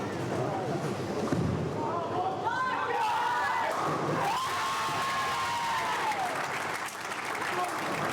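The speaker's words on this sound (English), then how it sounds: "all he gets for it's a round of applause" Round of applause and cheering from a crowd at a junior tenpin bowling match, moderately loud and steady for several seconds, with a voice talking over it.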